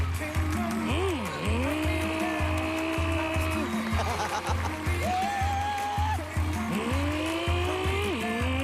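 Engine-like revving and whining imitating a motorcycle ride during a pantomime on a TV dating show stage, rising and falling pitch sweeps over steady crowd and background noise, with talk mixed in.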